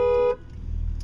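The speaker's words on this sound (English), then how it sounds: "The horn doesn't work on this car when it's not on." A car horn gives one loud, close, steady honk lasting about a third of a second, then cuts off to a low, quiet rumble.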